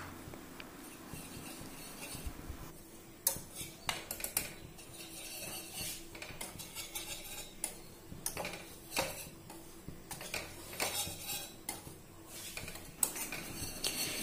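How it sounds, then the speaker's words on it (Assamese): A metal spatula scrapes and taps against a hot wok while gram flour dry-roasts for Mysore pak, quiet irregular clinks and scrapes repeating throughout with no talk. "কেৰাহীখন গৰম কৰি প্ৰথমতে বেসনখিনি অকমান শুকানে ভাজি ল'ব লাগিব"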